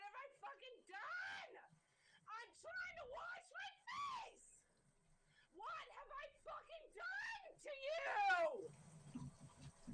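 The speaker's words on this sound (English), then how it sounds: "she is peaking her microphone, her phone camera with how loud she is screeching" A woman screeches loudly and shrilly into a phone microphone, peaking and distorting it, in repeated bursts of high, harmonic wails across the whole stretch, with a short lull midway and a rumbling noise at the end.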